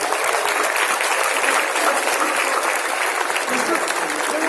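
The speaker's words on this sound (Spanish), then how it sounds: "e la intervención del ingeniero César Arias, a quien quisiera brindarle un fortísimo aplauso, por favor." An audience at an international scientific congress applauds after a talk, a dense, sustained clatter of many hands clapping at a steady level throughout.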